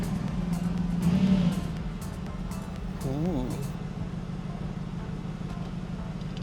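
A car engine idles steadily with a low rumble, briefly revving, while a voice exclaims softly over it.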